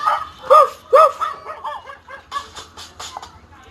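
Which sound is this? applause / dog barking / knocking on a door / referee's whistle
dog barking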